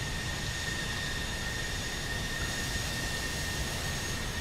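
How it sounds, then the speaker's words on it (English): F-14 jet engine in the combat flight game DCS World, a constant hissing whine with steady tonal lines over a low rumble, unbroken and even throughout. "Because I like how this jet sounds now."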